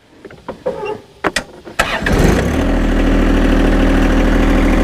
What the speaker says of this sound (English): So now I'm going to start the tractor